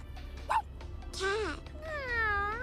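A person imitates a tiny dog barking with a short yip and then two higher, whiny yelping cries, close and voiced over a low background hum.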